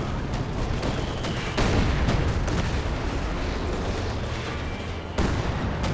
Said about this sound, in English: Incendiary barrage from the Lord Engineers.